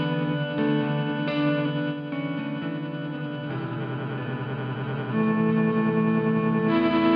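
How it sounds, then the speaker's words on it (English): Pladask Elektrisk Baklengs pedal freezing audio playback, holding a steady smeared drone with shifting harmonic textures and reverb-like wash, loud and continuous without speech, with a couple of abrupt tonal changes. "So now you're hearing a freeze that's happening."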